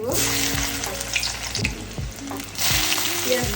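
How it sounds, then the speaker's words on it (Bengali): Dried red chillies and onion fry in hot oil, giving a steady sizzle with occasional stirring scrapes and clinks in a home kitchen, fairly quiet and close. "তেল গরম হয়ে গেছে এখন এতে কয়েকটা শুকনা মরিচ আমি তেলে দিয়ে দিব একটু ঘ্রাণের জন্য দিয়ে দিব পেঁয়াজ দিয়ে"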